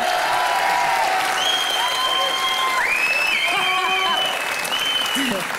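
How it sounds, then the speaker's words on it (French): Sustained, loud applause from an audience honouring Audrey, a world judo champion, on a French evening entertainment show, with bright tonal music lines floating above the steady clapping throughout. "on applaudit encore très fort Audrey, championne du monde de judo"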